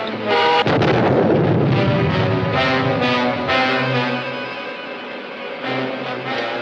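A cannon fires in a vintage film serial, giving a loud, booming blast followed by a long rumbling explosion that decays over several seconds, with dramatic orchestral music swelling underneath and no talking.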